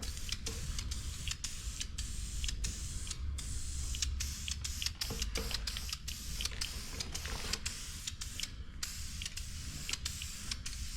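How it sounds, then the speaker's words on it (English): Blue paint is sprayed onto a part from a 1966 Ford Mustang in a rapid series of short, sharp hissing bursts, close and fairly loud, with brief pauses between them and no talking. "Should be able to put a coat of blue paint on this."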